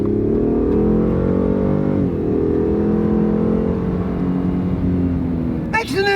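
Steady drone of a Ford F-150 Hybrid pickup cruising on a smooth road, a smooth low hum with gently rising and shifting tones heard from inside the cab, with a brief sharper noise at the very end.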